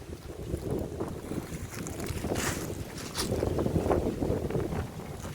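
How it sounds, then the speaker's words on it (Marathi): Gusty wind rumbles and buffets the microphone continuously, with a few brighter rushing bursts, loud and close. "गाईज वारा खूप मस्त सुटला इथे"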